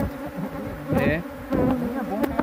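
Honey bees buzz steadily and loudly at an apiary of about forty hives. The drone is close and dense, with a few louder swells as bees fly past the microphone. No speech is heard.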